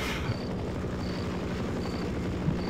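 Helicopter flying in the game They Hunger, a steady low rotor chop and engine drone held at an even, moderate level with a faint repeating high beep throughout.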